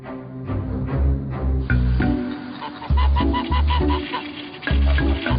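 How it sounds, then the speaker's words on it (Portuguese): Flock of geese in a medieval village honking in repeated loud bursts, with overlapping calls close by and a few brief pauses between clusters. "Os bandos de gansos eram encontrados em todos os vilarejos"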